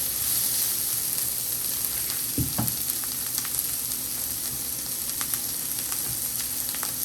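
Rasta pasta sauce steadily sizzling and bubbling as it cooks down in a pan, a constant close frying hiss with a few soft utensil knocks and scrapes, no voices.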